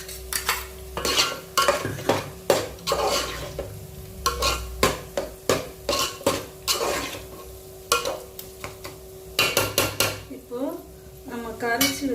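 A utensil stirs fish curry paste mixed with tamarind water in a metal pot, giving repeated close scraping and clinking strokes in an uneven rhythm, with a faint steady hum beneath and a few soft vocal sounds near the end.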